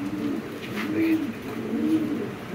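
Modena pigeons cooing nearby, with several soft, throaty coos in a slow repeating rhythm over light background noise and no talk.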